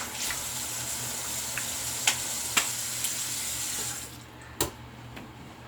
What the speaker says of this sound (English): Let's rinse the alum off